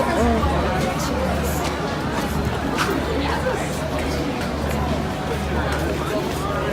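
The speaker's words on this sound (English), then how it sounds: "Yes, that's the crowd." Steady crowd chatter fills the grounds of the Calgary Stampede festival, a dense outdoor babble of many voices with a constant low background rumble, continuous and even throughout.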